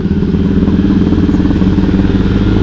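A motorcycle with a new 63 spec engine running steadily close by, a loud, throbbing mid-pitched drone with a faint rattle, no speech.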